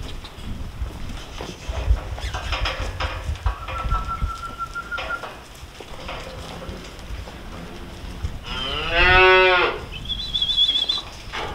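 A cow separated from her calf moos loudly and close at a cattle working facility, one long drawn-out bellow after scattered rustling, hoof clatter and faint bird calls.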